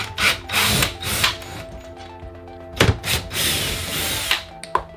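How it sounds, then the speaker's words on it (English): A power drill with a hex bolt adapter whirs in repeated bursts up close, removing bolts in an RV, spinning up and stopping several times with mechanical rattles and clicks between runs. "we have a nice little hex bolt adapter on the drill, so I'm just gonna pull these out."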